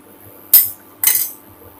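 Two sharp metallic knocks from a spoon mashing milk powder in an Amway Queen pan for kalakand, close and separated by about half a second, with near-silence in between.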